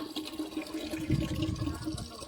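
Water pours into a metal pot in a continuous, moderately faint gurgling splash, with no voices.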